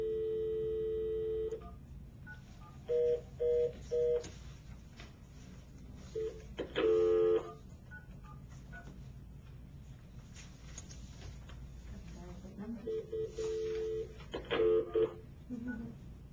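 A telephone is dialed during a board meeting: a steady tone, then several short keypad beeps in uneven bursts, all faint against low room noise.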